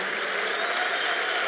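Sustained applause from a conference crowd fills the whole moment, loud, dense and even, with no breaks.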